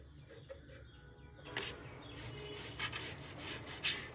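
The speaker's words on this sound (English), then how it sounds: "You can see how well this is grating and coming out" Potatoes are grated by hand in a home kitchen, first faint and then a closer, steady rasping scrape that runs for a few seconds with a brief louder scratch near the end.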